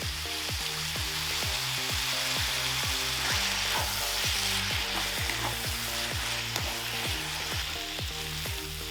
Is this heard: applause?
no